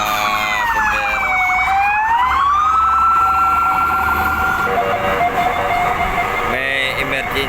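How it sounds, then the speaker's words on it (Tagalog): A fire truck siren wails and sweeps up and down as the engine passes on a city street near Pier 15 in Manila, loud and continuous with traffic noise beneath. "May dumadaan pa na bumbero."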